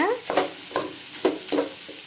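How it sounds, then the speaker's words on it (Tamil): Carrots and beans cook for a Tamil-style poriyal in a pan, a soft steady sizzle broken by four or five sharp scraping stirs of a spatula at roughly even intervals. "நல்லா கேரட் பீன்ஸ் வேகணுங்க கொஞ்ச நேரம் வேகட்டுங்க"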